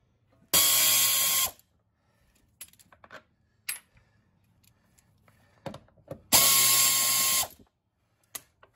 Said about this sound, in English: I have to go back over to the other side now and undo the rest of the screws over there